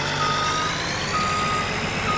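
A deep Cummins diesel truck engine in the video game Farming Simulator 19 idles and rumbles steadily up close, with a thin, continuous high-pitched tone running alongside it and no voices.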